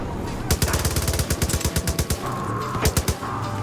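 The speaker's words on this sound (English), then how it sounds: "Just keep shooting out the drivers." Rapid automatic gunfire in Far Cry 5, aimed at a convoy's drivers: loud, close bursts of machine-gun shots in quick regular rhythm, pausing briefly before a final few rounds.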